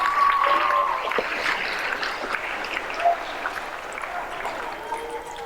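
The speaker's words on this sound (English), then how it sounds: "Round of applause for that person back there." Audience applause at a substance-free school assembly talk, a steady wash of clapping from a crowd that slowly thins out, with faint voices underneath.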